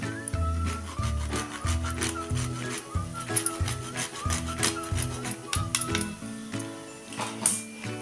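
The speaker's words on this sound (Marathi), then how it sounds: "ह्यामध्ये आता आपण थोडंसं जायफळ किसून घेणार आहे" Nutmeg is grated by hand over a modak filling, producing repeated rhythmic rasping strokes, close and fairly quiet with faint kitchen clinks and no talk.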